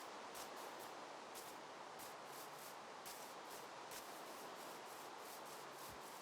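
Steady, even hiss of rainfall in a Minecraft-style video game fills the whole stretch, constant and fairly close, with a few faint brief taps and no voices.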